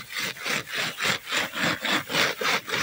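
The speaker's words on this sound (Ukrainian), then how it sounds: "Просто пиляю." A hand saw cutting through a dry pampas grass bush outdoors, with about nine even back-and-forth strokes making a rhythmic rasping scrape, close and clear.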